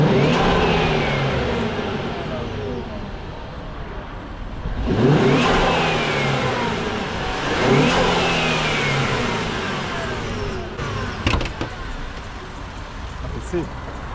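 A 2023 Infiniti Q50 engine with a cold air intake revs hard several times, rising and falling with a throaty intake roar, close by, with voices faintly mixed in.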